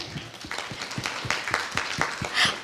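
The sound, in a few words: audience applause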